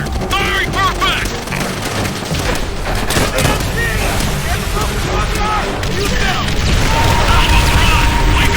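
Rocket artillery barrage in Call of Duty: World at War, a dense continuous wall of booming explosions and gunfire rumbling throughout, loud and sustained with battlefield clatter layered on top.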